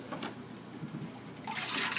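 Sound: water running into a container for soaking coral

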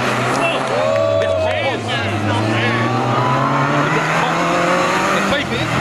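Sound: race car accelerating at a hill climb

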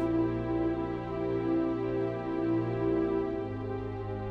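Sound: chord progression played for string composition

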